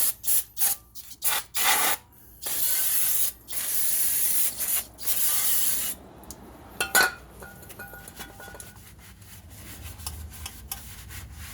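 Several short aerosol brake cleaner bursts followed by longer hissing sprays on the front brakes of an 8th-generation Honda Civic, close and loud, then quieter rubbing and handling noises.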